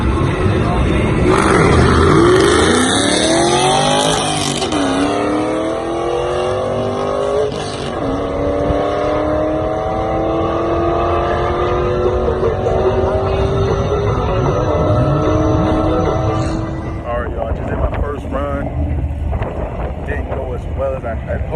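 A car launching down a drag strip on fresh tires, its engine climbing through several loud rising revs with gear changes, close and dominant, before the sound drops away near the end.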